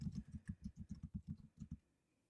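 Fairly quick, soft keystrokes on a computer keyboard, a run of about a dozen close taps in an uneven rhythm that stops near the end, with no talking.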